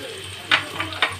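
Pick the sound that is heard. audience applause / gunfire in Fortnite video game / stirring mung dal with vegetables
stirring mung dal with vegetables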